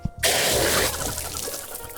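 Water rushes hard through a pressure reducing valve fitting as it is flushed out, a loud, steady gushing burst that starts abruptly and gradually eases off, with no talking.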